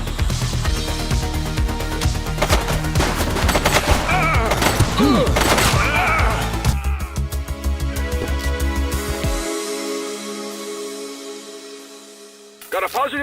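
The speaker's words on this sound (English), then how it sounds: "She's shooting!" Rapid bursts of gunfire ring out in a police officer video game, dense volleys of shots mixed with game music and shouted voices, tapering off toward the end.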